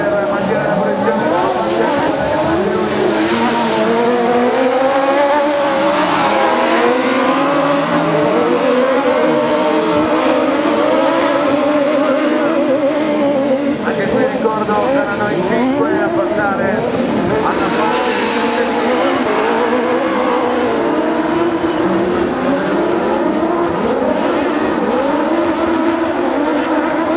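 Buggy1600 autocross race cars at Maggiora in a European championship round roar along the straight, engines rising and falling as they pass one after another, loud and continuous beneath an excited commentator speaking throughout.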